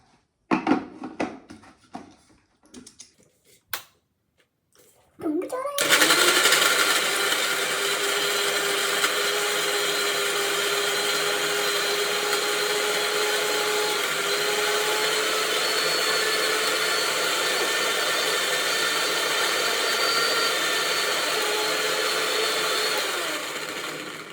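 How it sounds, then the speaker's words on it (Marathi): A mixer grinder whirs loudly and continuously for about twenty seconds, following a few seconds of scattered clicks and handling knocks as the lid is fitted. "चला तर आपण मिक्सर लावून घेऊया."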